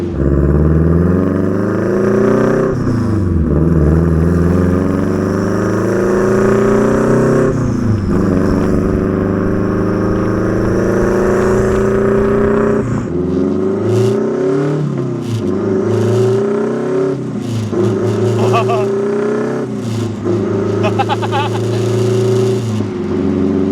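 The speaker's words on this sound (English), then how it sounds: "I'm driving my Miata, and it definitely sounds like a Subaru." A Mazda Miata engine drones and rumbles under steady acceleration with a burbly, uneven Subaru-like exhaust note, rising and falling through gear changes, close and loud throughout.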